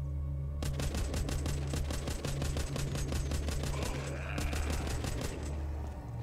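Rapid automatic gunfire in the video game The Walking Zombie II rattles in sustained bursts of sharp, evenly spaced shots over a low rumbling backdrop, loud and close.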